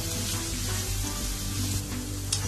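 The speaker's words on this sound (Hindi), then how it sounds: "अब इसमें डालेंगे हम प्याज। प्याज को हमको गोल्डन ब्राउन करना है।" Onions fry in a cup of oil in a pot for nalli beef biryani, a loud, steady sizzle with a low bubbling hiss throughout and a brief spatter near the end.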